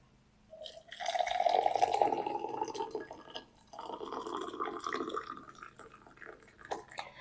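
Hot water poured over dried thyme in a cup for herbal tea: a steady trickling pour starts about half a second in, swells, then continues more softly with small drips and splashes, fairly close, with no talking.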